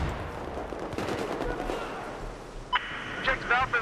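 Rapid, steady gunfire from a Battlefield 4 match continues as dense crackling, then fades into quieter game effects with faint voices near the end.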